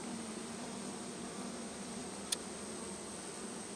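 Honey bees buzzing in a single brood super hive, a faint, steady, hissing hum with one tiny click partway through.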